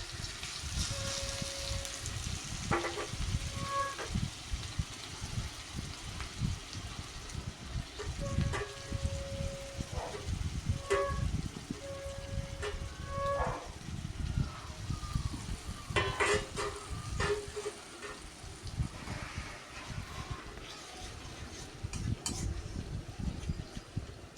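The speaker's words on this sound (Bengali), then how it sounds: "সেই পেঁয়াজ বাটাটা এইবার আমি তেলেতে দিয়ে দেব।" Onion paste frying in oil for a Katla fish curry, a steady soft sizzle with scattered spatula scrapes and clinks against the pan, moderate and close, alongside faint intermittent talk.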